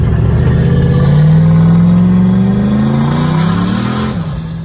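A turbocharged LS-swapped Dodge Caravan van pulling hard on a test run, a loud engine roar rising steadily in pitch through the gears before easing off, close and dominant with no talk.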